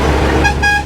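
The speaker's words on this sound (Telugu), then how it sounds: "ఓవర్టేక్ ఉన్నా కానీ సైడ్ ఓవర్టేక్ చేసి హార్న్ కొడతాడు." A vehicle horn on a night road gives two short toots in quick succession over the loud rumble of a nearby engine and traffic.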